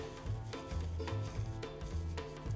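Hands crumble balls of dried thyme for a beef tenderloin dish, producing soft, rhythmic, crackly rubbing in repeated pulses about every half second. The sound is quiet and close.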